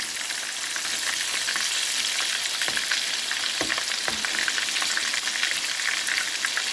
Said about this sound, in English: This is what I call chunky fish fry.